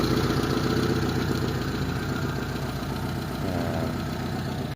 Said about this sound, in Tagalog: So padinig ko sa inyo yung andar dito sa makina.